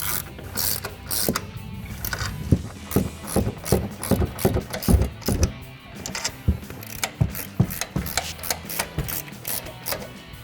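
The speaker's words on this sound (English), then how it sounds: "take a 15mm ratcheting wrench and tighten down our 3 upper strut nuts" A 15mm ratcheting wrench tightens the upper strut nuts on a Silverado 1500, giving rapid bursts of sharp ratchet clicks that come close and loud in repeated strokes.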